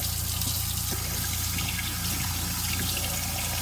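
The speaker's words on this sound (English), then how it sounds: "that's just perfect for the water to go directly down into the drain" Water runs steadily from an RV sink spout straight down into the drain, a constant close rushing splash that carries on without pause.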